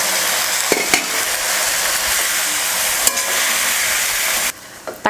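Chopped tomatoes hit lightly fried onions in a pan for sambar, producing a loud, steady sizzle with a few spoon taps, before the hiss drops abruptly near the end.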